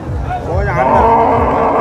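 A large, double-bodied Friesian cow moos once in a long, drawn-out, rising-and-falling call at a busy cattle market, close and fairly loud over a steady low crowd murmur.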